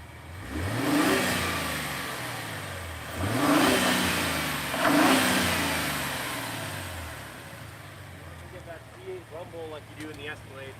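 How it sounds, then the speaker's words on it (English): A 2021 Lincoln Navigator Black Label's engine revs three times in quick succession, each rising surge falling away, loud and close, with people talking faintly afterward. "can you rev it real quick? Sure. Yeah, I'll rev it real quick."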